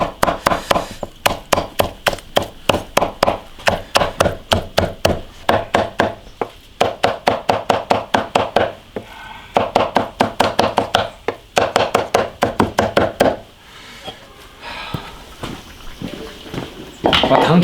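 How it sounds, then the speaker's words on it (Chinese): Mutton is chopped into mince for a mutton soup, with rapid, loud, even knife strikes on a board coming in long runs broken by brief pauses. "把肉剁碎呀"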